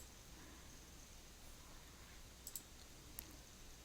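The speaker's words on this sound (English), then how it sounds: "I'm just going to click Yes." A few faint, sharp computer mouse clicks land close together over a quiet room hush while saving a Word document.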